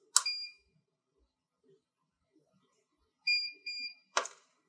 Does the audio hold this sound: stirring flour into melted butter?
no